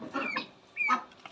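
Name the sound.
country rooster and broiler chickens clucking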